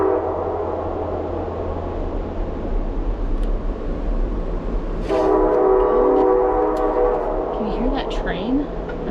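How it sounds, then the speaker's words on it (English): A train passes near an off-grid cabin in Alaska, its low rumble joined partway through by a loud, sustained horn blast. The sound carries in from outside at moderate distance. "Train. I've never heard it when I was out here."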